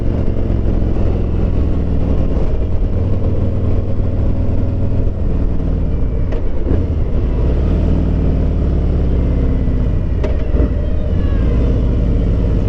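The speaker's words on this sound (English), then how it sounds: "The Milwaukee 8 is such a fantastic motor." A Harley-Davidson Street Glide Special bagger with a Milwaukee 8 engine and 19-inch front wheel rumbles steadily and loudly, idling with low throbbing pulses throughout and small throttle blips near the end, with no talk.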